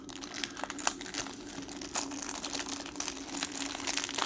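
Plastic packaging around an MF8 Elite Skewb twisty puzzle crinkles close up, a quiet continuous run of crackles with sharper snaps scattered throughout, no voices.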